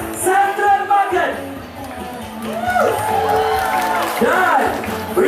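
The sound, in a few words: crowd applauding and cheering at festival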